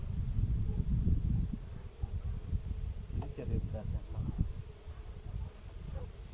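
A dense, steady buzzing of many honeybees close by at a hive, with some rustling and a faint murmuring voice now and then.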